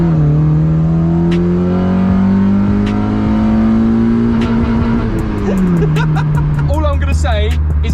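A Honda Civic engine revs to its rev limiter, a loud, steady, close-up drone that holds and then drops in pitch near the end, with voices talking over it.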